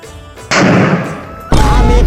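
A firecracker is lit and bursts in two loud, close blasts about a second apart, each cutting sharply over the background and followed by a crackling tail.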